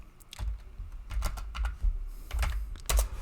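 Fingers tap on a computer keyboard in irregular bursts of close, crisp clicks and a few heavier key strikes, with no talking.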